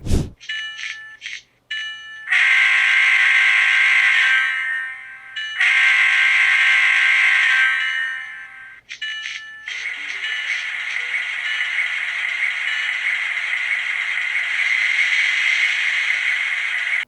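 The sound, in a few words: model locomotive sound decoder sounds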